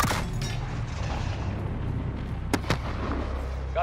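Booming explosions and gunfire sound in the Modern Warfare video game: a heavy blast opens, then a rumbling battle bed and two sharp cracks near the end, loud and close.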